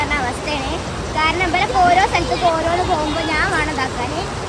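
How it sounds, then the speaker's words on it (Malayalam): Loud rushing water roars as a continuous broadband wash while people talk over it close by. "അവിടെ നല്ല വെള്ളത്തിന്റെ ഒച്ചപ്പാടൊക്കെ കൊണ്ട്"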